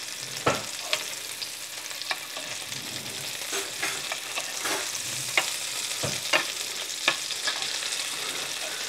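Scallops sizzle gently over low heat in a frying pan, a soft steady crackle broken by scattered pops and the occasional clink of a spoon, with no talking.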